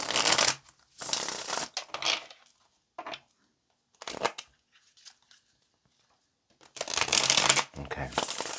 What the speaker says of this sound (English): Let's get just a couple of more shuffles.